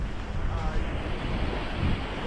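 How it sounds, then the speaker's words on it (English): Big surf waves breaking on a Bali beach, a dense steady wash of crashing water with wind buffeting the microphone throughout. "There's a lot of surfers here as well, so there's pretty big waves."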